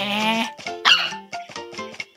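A cartoonish puppy in the Nintendogs handheld game barks in a quick series of bright, yappy bursts, several short barks in an uneven rhythm, close and loud with no talk over them.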